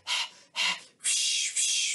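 A human voice imitates a panting Saint Bernard dog during an Alpine song, giving four loud, breathy huffs in quick succession, the last two drawn out and joined.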